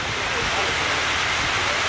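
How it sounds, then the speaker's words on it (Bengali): Heavy rain pouring down in the Sundarbans, heard as a dense, steady wash of noise with no break, close and fairly loud. "জোরে বৃষ্টি এসেছে, দেখতেই পাচ্ছেন।"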